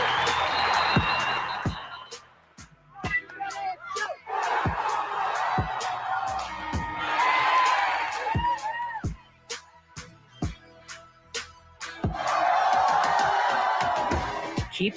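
A crowd cheers and whoops in repeated loud swells, with sharp claps and thumps punctuating the noise, and short quieter gaps between the bursts of excitement.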